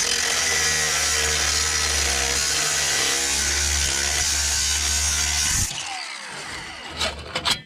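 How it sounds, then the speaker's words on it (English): DeWalt angle grinder with a cutoff wheel slicing through an old exhaust pipe on a Franklin log skidder: a steady, loud, high whine for several seconds, then it cuts off and spins down with a few rattles. "Got our handy dandy DeWalt grinder, cutoff wheel. We'll just put a quick slit in this,"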